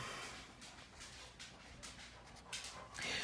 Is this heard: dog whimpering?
yes